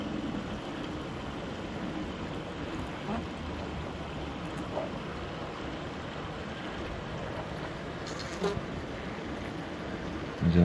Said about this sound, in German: So, da sind wieder die Bienen